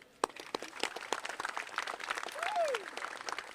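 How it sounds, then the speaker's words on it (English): An audience at a partnership announcement event claps in scattered, uneven bursts, with separate sharp claps standing out and a short whistle-like cheer midway. The applause is moderately loud and nearby. "we're going to give her a big cheer"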